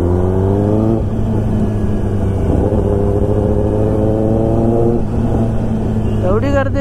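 Kawasaki ZX10R motorcycle engine running at idle, a loud steady close hum with a brief rise around one and five seconds, with chatter and crowd noise in the background.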